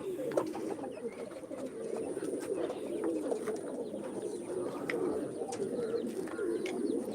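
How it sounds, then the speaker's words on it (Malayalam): Pigeons cooing steadily outdoors, a continuous soft murmur of low coos with occasional chirps from other birds, fairly close and moderate in level, with no talking. "നമ്മളെ പ്രാവ് പറന്ന് പറന്ന് വരുന്നുണ്ട് താഴേക്ക്"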